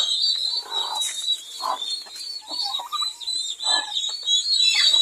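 Young turkey poults, kept under a heat lamp away from the hen, give a steady run of high, thin chirps and peeps. The calls overlap and repeat closely at close range, with a few lower clucks mixed in.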